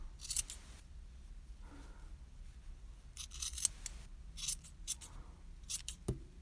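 Scissors trim crochet yarn on a Santa hat in a series of soft, crisp snips close up, irregularly spaced with quiet gaps and no voices.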